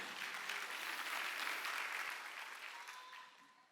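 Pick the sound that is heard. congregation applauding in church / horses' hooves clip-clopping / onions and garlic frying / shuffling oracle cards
congregation applauding in church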